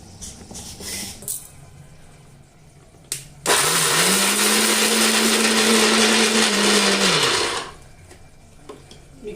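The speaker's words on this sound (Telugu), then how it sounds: "ఇప్పుడు ఈ బాదం పలుకులలో 1 యాలకు వేసి మనం" A mixer grinder whirs loudly for about four seconds as it grinds almonds with a cardamom pod, a steady high motor whine that spins up and cuts off, with small clicks and handling noises before and after.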